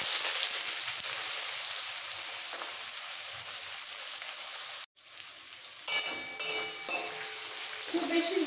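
Chopped onion hits hot oil already seasoned with whole cumin seeds, giving a steady broadband sizzle that breaks for a moment near the middle and returns louder with a few utensil clinks.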